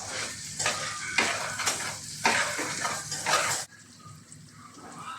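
Semi-fried sausage stirred into masala in a pan, loud sizzling swells with scraping strokes in a steady rhythm, then the frying drops to a quieter hiss near the end.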